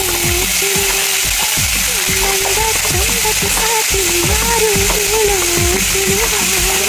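Cumin and other spices fry in hot oil for a Karnataka-style chavalekai palya, giving a loud, continuous close sizzle with a voice talking over it throughout.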